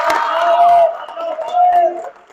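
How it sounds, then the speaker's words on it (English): A high school audience claps and cheers for a student called up front, a loud burst of crowd noise that fades after about two seconds, with a voice over it. "Round of applause for Colin."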